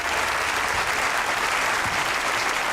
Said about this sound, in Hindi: अब जरा तालियां ठोकें, शोर मचाएं, पागल हो जाए।